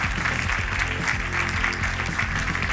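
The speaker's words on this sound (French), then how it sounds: "On peut les applaudir." At a 2022 consulting awards ceremony, the audience claps for prize winners M618 Consulting and BPI France, a steady wash of applause over a low rhythmic music bed.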